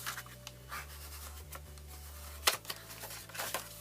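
Paper is folded over by hand to form a box, giving soft scratchy creases and rubbing sounds in short, uneven bursts, close and fairly quiet, with one sharper crinkle midway.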